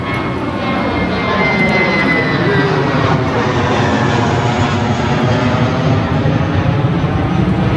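A jet airplane roars overhead, a loud steady broadband rumble that fills the whole clip, with faint voices beneath it.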